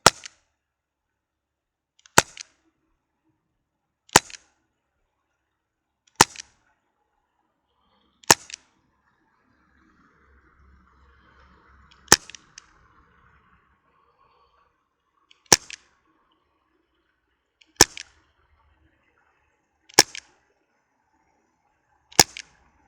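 Elite Force H8R CO2 airsoft revolver shooting brand-new cartridges with 0.2 gram BBs, ten sharp cracking shots spaced roughly two seconds apart, close and loud, with a faint low rumble between some shots and no talking.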